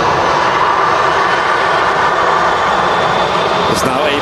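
EasyJet airliner taxiing off the runway at Manchester Airport, a steady, loud jet engine roar sustained throughout with a broad whining hum.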